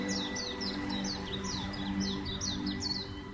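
A small sparrow chirps in an animated story, a run of quick, bright tweets repeating steadily over a soft background hum.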